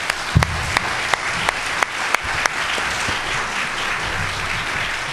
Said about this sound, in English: Why don't we give these folks the applause they deserve?